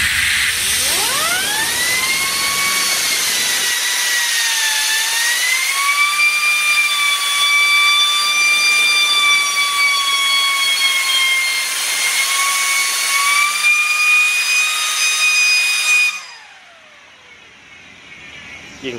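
Turbine wheel spinning up to maximum RPM, a loud whine that rises quickly in pitch, levels into a sustained high scream with shifting tone, then cuts off abruptly near the end.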